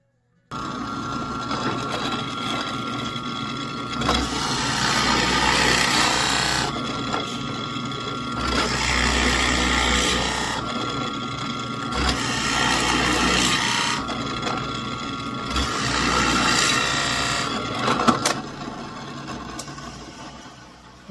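A power drill whirs through bottle caps in four separate bursts of a few seconds each, with short pauses between, close by and fairly loud.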